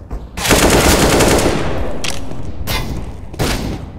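Rapid bursts of automatic gunfire from CS:GO, loud and close, a long sustained volley followed by two shorter bursts, with no talking.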